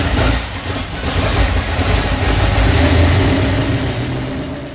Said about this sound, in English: Now start the engine with your foot off the pedal.